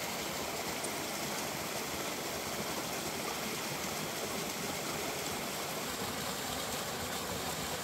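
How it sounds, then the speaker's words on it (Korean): Waterfalls and a stream at a waterfall-stone site near Okcheon rush in a steady, dense roar, constant and close with no pauses. "폭포석의 산지답게 폭포들이 있습니다."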